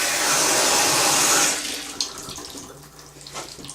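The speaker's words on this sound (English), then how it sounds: "What we're going to do is add a little bit of water" Water pours steadily onto peat moss in a plastic worm bin tub, a loud, continuous splashing stream that stops after about a second and a half, followed by quieter trickles and damp rustling.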